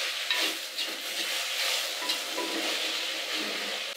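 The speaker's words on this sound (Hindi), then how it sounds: "तो अब हम इसे यहाँ अच्छी तरह से भून लेंगे" Pasaruni (gandh prasarni) leaves roast in a pan with salt and turmeric as they are stirred, a close, continuous frying hiss with light scraping, and no voices.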